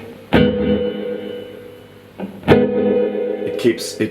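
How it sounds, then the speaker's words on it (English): Sharp guitar strums ring out through a Catalinbread Adineko delay pedal, each followed by echoing repeats that trail off under a wash of reverb. "if you turn reverb up, now you get more repeats"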